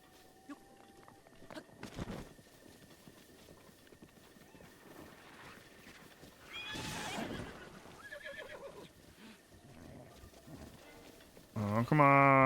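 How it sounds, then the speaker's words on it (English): A horse whinnies and its hooves clip-clop in Zelda Breath of the Wild, Master Mode, with a louder neigh near the end over quiet game ambience and faint talk. "Maybe I can get a horse again?"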